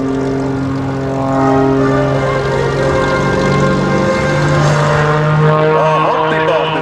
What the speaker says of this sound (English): listen to that prop wind up